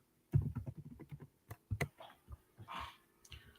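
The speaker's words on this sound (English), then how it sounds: "I'll click on execute workflow and I'm going to type in hello." Quick keystrokes on a computer keyboard come in a short, close burst of uneven clicks, with a few softer taps trailing off, and no one speaking.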